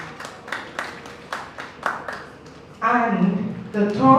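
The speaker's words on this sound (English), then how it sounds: "Please, a round of applause for him too." Audience clapping at an academic workshop in Abuja, a short burst of sharp, scattered claps that gives way to a sustained tonal sound with voices.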